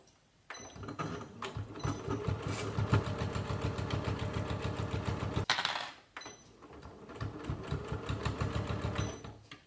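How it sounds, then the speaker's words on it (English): A sewing machine stitches around the sides of a fabric coaster with a close, steady, rapid mechanical chatter in two runs, broken by a brief pause and a sharp clunk near the middle. "I'm going to back tack and sew all the way round the 4 sides"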